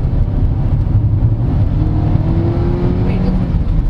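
Cabin sound of a 2023 Hyundai Stargazer GLS Premium MPV with a CVT gearbox accelerating: a loud steady engine drone with a rising whine, overlaid with road and wind roar, no one speaking.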